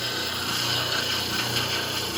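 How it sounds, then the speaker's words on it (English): A power sander hums steadily against the wood of a handmade hand mirror, sanding up to a pencil line, a constant close whirring and rasping with no breaks. "I'm sanding it again right up"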